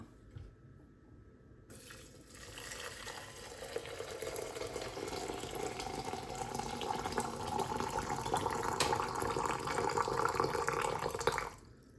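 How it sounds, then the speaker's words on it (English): Water poured from high up into a clay teapot, starting after a short quiet moment and then a continuous splashing, filling stream that grows slightly louder before stopping abruptly at the end. "And let me put the water in now."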